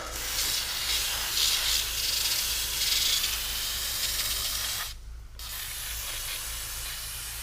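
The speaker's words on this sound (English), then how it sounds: "I want to lubricate this spring up here, and I'm just going to spray on the top of it" A steady aerosol hiss of lubricant sprayed onto a garage door spring sprays continuously, cuts off briefly, then resumes for several more seconds, close and loud.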